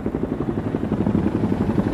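A helicopter flying a rescue on Mount Rainier after a blizzard, its rotor thumping in a fast, steady rhythm, loud and close, with no talk.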